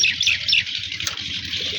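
Pigeons kept in a loft give a few close, sharp chirps and calls over a soft, low rustling in the background, with no one speaking.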